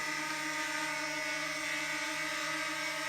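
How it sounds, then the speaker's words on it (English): A DJI Mini 2 drone hovers and spins in place, its propellers giving off a steady, high, buzzing whine with layered tonal hums. The sound stays even and fairly close throughout. "So there's me flying the drone,"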